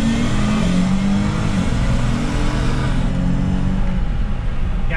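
An AWD Chrysler 300S launches from 1500 rpm and pulls hard, its engine roaring loud and steady throughout with no tire squeal.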